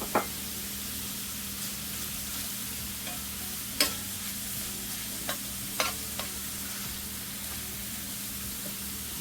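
Scotch bonnet pepper and black pepper being stirred in a hot pan give a steady, even sizzle, with a few sharp spoon scrapes and taps against the pan scattered through it. No one speaks.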